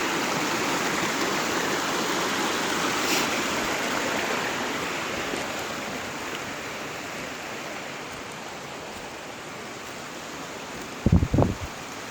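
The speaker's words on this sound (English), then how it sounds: "Beautiful little creek." A small creek flows steadily, a continuous broadband babble of running water that fades slightly toward the end, with a few brief knocks near the close.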